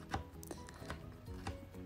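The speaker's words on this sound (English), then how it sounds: "Chopping those up, giving them a rough chop" Pecans rough-chopped with a knife on a cutting board for a spice cake bread, giving a run of irregular close thuds at a steady working pace.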